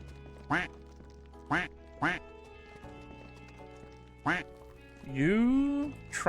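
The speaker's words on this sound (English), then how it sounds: "It would be funny to also turn all of my stream notifications into this quack noise" A squeezable duck ball toy quacks in several short, separate honks spaced a second or so apart, loud and close, followed by a longer warbling quack and a voice near the end.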